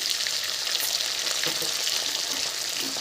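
Black cumin paste sizzling in hot oil for tempering a Bengali prawn and taro-leaf dish, a loud continuous hiss close up with a few soft stirring knocks, no talk.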